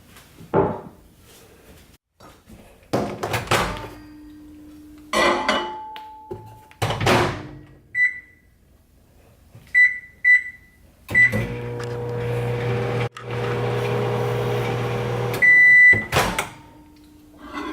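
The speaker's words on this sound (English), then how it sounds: "So let's go over to the microwave." A kitchen microwave is loaded with white chocolate for melting: thumps of the door and cupboard, several short beeps of the keypad, then the steady low hum of the oven running, ending in a beep and door clunks.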